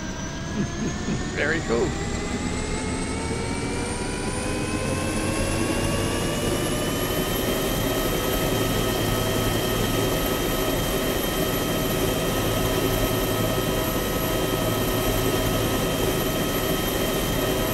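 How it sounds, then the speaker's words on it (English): A helicopter in the survival game DayZ whines and thrums continuously from inside the cabin, its engine pitch rising steadily as it spools up and takes off, with players talking over the loud, constant drone. "Oh, well, I'm in a helicopter!"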